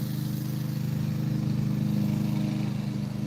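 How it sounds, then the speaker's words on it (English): A lawn mower cutting grass on a hump, heard as a steady, continuous engine drone with a low rumbling hum, fairly loud and unbroken, with no talking. "back there mowing the hump"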